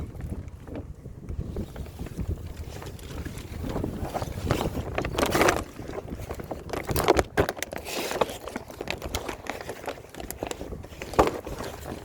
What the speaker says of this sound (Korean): 아이고 난리 났습니다. 바람이 불어서